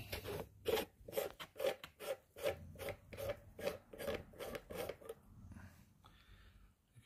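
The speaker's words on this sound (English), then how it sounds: "Let me remove the field flattener." A field flattener being unscrewed from a Skywatcher Evoguide 50ED telescope gives a close, steady series of about a dozen short rasping thread scrapes, then fades into quieter handling noises.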